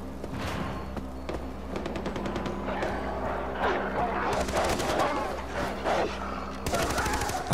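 Rapid bursts of automatic gunfire from the video game Far Cry 4, repeated volleys of sharp shots over a steady low hum of game ambience, loud and close throughout with a few separate single shots between bursts.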